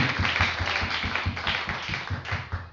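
A church congregation at a worship service claps in a fast, steady rhythm, many hands together, loud and close, with no talking over it.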